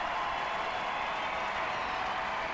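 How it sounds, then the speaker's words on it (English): A stadium crowd at a USWNT vs China soccer match applauds a substitution of Megan Rapinoe and Carli Lloyd, a steady, moderately distant wash of clapping and crowd noise throughout. "Warm applause for Rapinoe and of course for Carly Lloyd"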